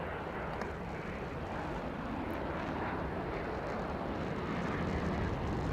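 An AV-8B Harrier jet flies low over the sea near the aircraft carrier John Stennis, its engine giving a steady, broad roar that stays constant and moderately loud throughout, with no talking.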